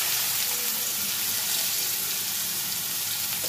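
Chopped garlic and onion fry in hot oil with a steady, close hiss and crackle that runs unbroken throughout.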